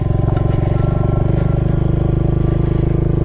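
A Royal Enfield Hunter motorcycle engine rumbles loudly and steadily at close range, its rapid pulsing throb continuous throughout as the bike rides along.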